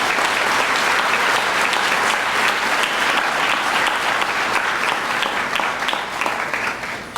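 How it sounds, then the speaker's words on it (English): An awards dinner crowd at a high school academic ceremony gives parents sustained, loud applause, thick and continuous clapping that thins slightly toward the end with no speech over it. "Round of applause for all of our parents in the room."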